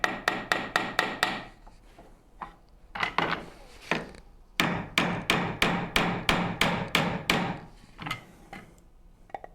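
A hammer strikes a piece into a cherry wood Shaker Enfield cabinet in quick bursts of sharp, close blows, several rapid hits per group with brief pauses between groups.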